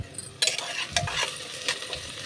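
Onions frying in oil with cardamom and bay leaf, close sizzling under a few quick scraping stirs of the spatula, brief and fairly quiet, with no speech.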